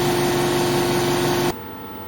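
An air compressor for a 100W Thunder laser cutter runs with a steady droning hum and then cuts off abruptly, leaving a quiet room.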